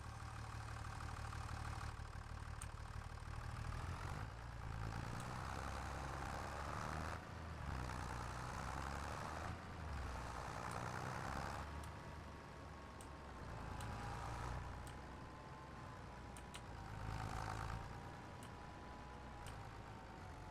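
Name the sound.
vehicle engine started and running in a video game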